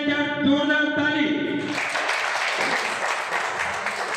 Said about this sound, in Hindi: आप सभी के लिए क्या जोरदार ताली।